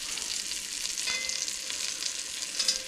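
Thin chicken cutlets fry in a hot pan with a steady, bright sizzle and crackle, close and continuous, with a few louder pops near the end and no voices.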